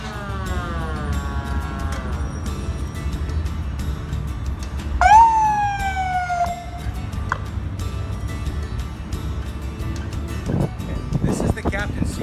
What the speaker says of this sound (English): going to turn on the sirens